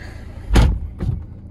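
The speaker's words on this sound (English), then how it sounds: "And if we shut the door in a second" A BMW car door swings shut with a heavy, close thud, followed half a second later by a softer second knock.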